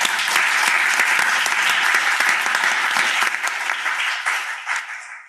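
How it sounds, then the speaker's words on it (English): An audience at a tax career panel claps loudly and steadily in a sustained burst of applause that gradually thins out and fades toward the end. "I think we just need to give you guys one last round of applause."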